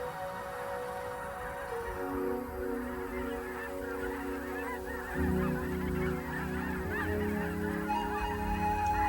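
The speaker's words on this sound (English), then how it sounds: "Canada geese are one of the more distinctively marked species." Canada geese honking in a group, a chorus of nasal overlapping honks that thickens and grows louder in the second half, fairly close and continuous with no voices.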